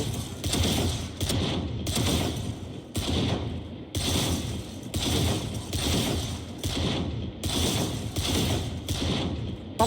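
Rapid bursts of gunfire from a new gun in the video game Outlaw, dense repeated shots in several sustained volleys with brief gaps between them, loud and close, with no talking.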